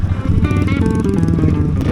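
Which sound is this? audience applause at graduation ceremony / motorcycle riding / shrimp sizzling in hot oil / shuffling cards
motorcycle riding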